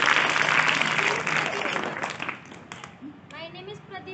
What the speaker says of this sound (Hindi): बहुत अच्छा, तालियां बजाओ।